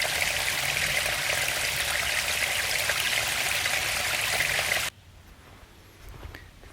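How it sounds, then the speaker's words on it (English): Brook Falls, a waterfall on a forest stretch of the Shenipsit Trail, pours as a steady, loud broadband rush of water that cuts off abruptly near the end, leaving quiet outdoor ambience. "we have Brook Falls, which actually for Brook Falls is running pretty well"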